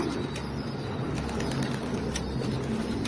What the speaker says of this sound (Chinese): 看这体型跟我的鸽子比起来差多远了？